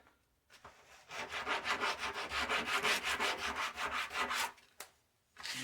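Hand sanding on a wooden snowman, a run of about twenty quick, even back-and-forth rubbing strokes, close and clear, followed by a couple of isolated scrapes.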